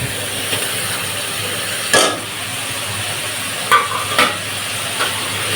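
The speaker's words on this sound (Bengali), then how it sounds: "এখন ফাইন করে কষিয়ে নেব" Chili, turmeric, coriander and cumin powders and garam masala, with a little water, are sautéed in a pan for a rohu fish curry. A steady close sizzle is punctuated by several distinct scraping stirs of the spoon. There is no talk.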